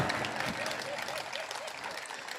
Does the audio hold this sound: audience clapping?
yes